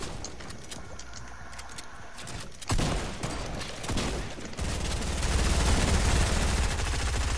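Automatic gunfire in Fortnite shooting out a wall, rapid bursts that grow louder and denser toward the end, dense and close with in-game effects layered underneath.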